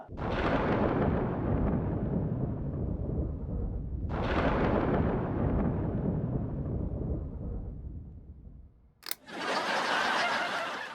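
Two loud, close cracks of thunder roll out and fade slowly, followed by a sharp click and a burst of hiss.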